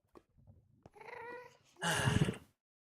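A pet cat whines close by, a short rising meow followed by a louder, drawn-out complaining cry, with quiet moments around it.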